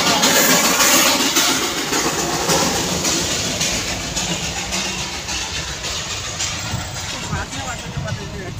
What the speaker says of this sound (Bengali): এখন এই যে টয় ট্রেন আসছে